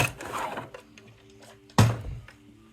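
A home sewing machine stitching fabric for a plant pot holder with the free arm removed, a soft whirring run, then a short pause and a sharp clunk followed by more quiet mechanical ticking.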